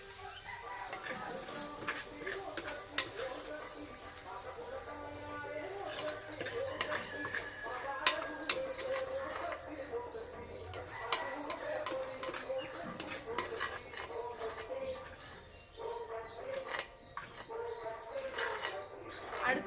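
Onion and tomato sautéing in a pan, a continuous crackling sizzle broken by frequent clicks and scrapes of a spoon, close by, with a voice talking over it at times.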